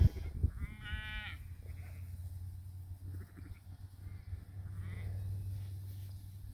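A sheep bleats nearby over steady low wind or engine rumble out on green pasture among lambs and yearling wethers, the tremulous call rising once near the start and faint softer bleats following.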